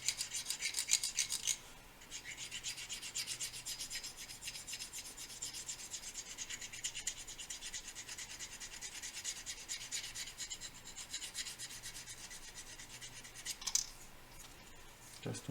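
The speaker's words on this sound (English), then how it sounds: "now let's scrape a little the sanded edges" A blade scrapes along the sanded edges of a Messerschmitt Me 262 A-1a model plane, giving a close, steady, dry rasping with brief pauses and a sharper scratch near the end.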